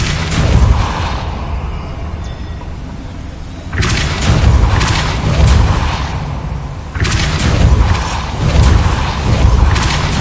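The Depulso force-push spell cast in Hogwarts Legacy, two separate bursts of heavy booming impacts with rumbling thuds, each starting abruptly and then rolling on for a few seconds, with quieter low rumble between them.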